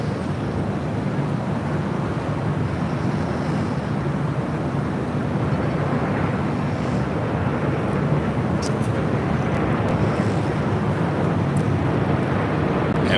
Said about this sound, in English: This is Air Tahiti Nui Flight 8 taking off to Paris on a 787-9 Dreamliner.